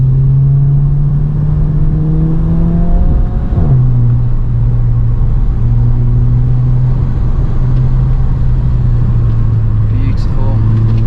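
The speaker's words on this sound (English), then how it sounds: "Listen to that turbo." Turbocharged Volkswagen Scirocco engine drops pitch on a downshift around four seconds, then holds a steady droning rev with turbo whir, loud and close from inside the car.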